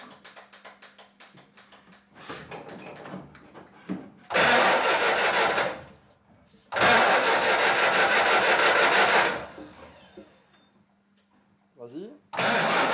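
The engine of the Artouste tourist train turns over and starts up: rough bursts of ratcheting cranking give way to two long loud roaring runs a few seconds each, with a final surge, close by and dominating the scene.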